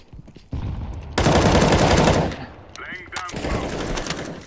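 AK rifle fire in the game CS:GO, sustained rapid automatic bursts, loud and close, with brief gaps between volleys and game sounds around them.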